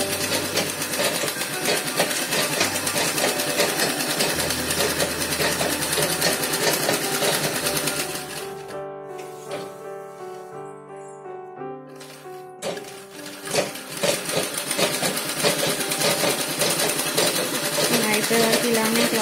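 Sewing machine stitching a pico edge on cloth, a fast steady mechanical whir that pauses briefly and then resumes, with a voice speaking over parts of it.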